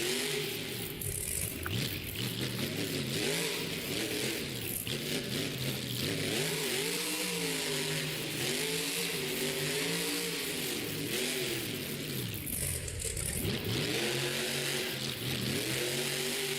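A monster truck's engine roars and revs through rising and falling gear sweeps as it races a Monster Jam World Finals qualifying run, loud and sustained with a rattling crowd-filled arena backdrop.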